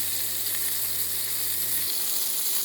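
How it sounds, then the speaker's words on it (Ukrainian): Pieces of bream fry in a pan with a steady, bright hiss of sizzling oil, close and fairly quiet, while a low hum underneath cuts out near the end. "рибку обсмажуємо з обох боків"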